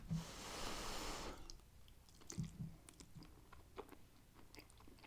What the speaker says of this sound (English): That's the sound of ramen I like.